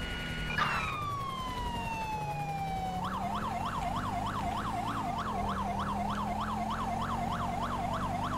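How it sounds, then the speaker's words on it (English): A police car siren from the GTA V LSPD:FR mod sounds loud and close, first a long falling wail, then a fast repeating yelp pattern, over a constant engine drone with no talking. "No, this is the same siren."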